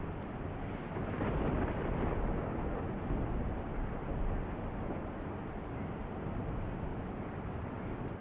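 Heavy downpour in Vapi roars continuously, a dense loud wash of rain on surfaces with wind buffeting the microphone, no voices.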